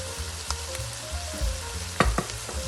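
Rice and peas base with a pinch of cloves frying in a pot, a steady low sizzle broken by a few sharp clinks and scraping stirs near the end.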